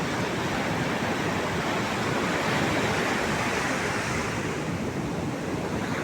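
Sea waves breaking on the shore after the monsoon, a steady, loud, continuous wash of surf that fills the whole clip with no voices.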